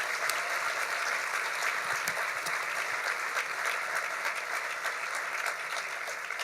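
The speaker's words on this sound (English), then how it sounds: "Let's give everybody who worked on this event a round of applause." Steady applause from an audience filling a room at an award luncheon, dense continuous clapping held at an even level throughout.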